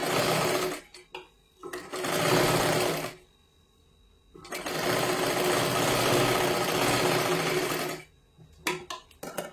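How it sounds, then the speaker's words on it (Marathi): Sewing machine sewing a full seam along a blouse tuck, running in three loud, close bursts of steady whirring stitching separated by short silent pauses. "पूर्ण शिलाई मारून घ्यायची आहे"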